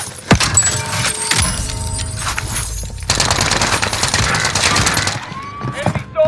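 Rapid automatic gunfire in a Call of Duty Warzone match, dense bursts crackling close and loud over game ambience, with a short break near the middle before the firing resumes heavily.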